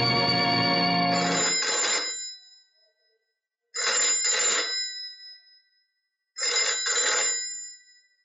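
An old-style telephone rings in a home: three loud, close bursts, each a double trill of the bell, separated by short silences.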